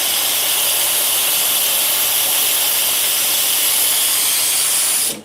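Steam wand on a Lita espresso machine hisses loudly and steadily for about five seconds, a broad continuous rush that cuts off abruptly at the end, with no talking.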